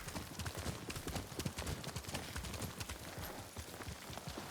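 Horse hooves clip-clop in a steady galloping rhythm in the video game Ghost of Tsushima, continuous and dense under ambient game sound, moderately close with no voices.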